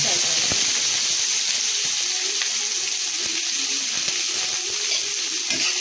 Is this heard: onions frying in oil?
yes